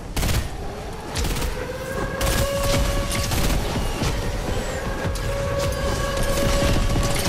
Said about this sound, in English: the airstrikes are not doing much damage